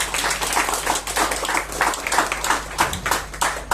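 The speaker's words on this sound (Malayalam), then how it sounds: "ഇങ്ങനെ ഒരു ഫംഗ്ഷൻ ഇത്രയും ഭംഗിയായിട്ട് ചെയ്യുമ്പോൾ അതിന്റെ പിന്നിൽ പ്രവർത്തിച്ച എല്ലാവർക്കും നിങ്ങൾ വലിയൊരു കയ്യടി കൊടുക്കണം" Audience applause at a public function, a steady wash of many hands clapping at moderate volume that continues throughout with slight swells.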